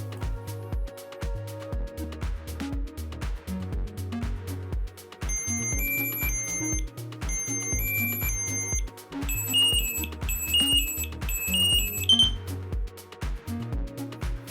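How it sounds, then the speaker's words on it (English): Dräger AirBoss Sentinel PASS device sounding its pre-alert: loud, repeating high electronic tones in rising sequences over a steady low pulsing beat. "Once the pre-alert starts, we'll shake the AirBoss Sentinel to make sure that the alarm is canceled."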